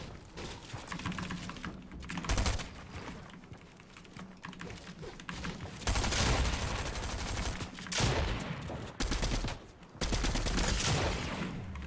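Gunfire exchange in Fortnite, with dense bursts of rapid shots and keyboard-like clatter coming in loud waves throughout, heaviest in the second half.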